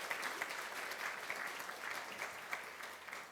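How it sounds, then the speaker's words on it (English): Applause from a gala audience at the Camden Black Workers Group 40th anniversary celebration, a steady, fairly quiet wash of many hands clapping throughout, with a few sharper claps standing out. "So I'd like to give a round of applause to them as well"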